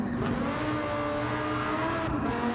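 Lamborghini Gallardo V10 race car on soft sport tyres in the Gran Turismo 7 racing game, its engine wailing loud and steady at high revs with slight pitch shifts throughout, no talking.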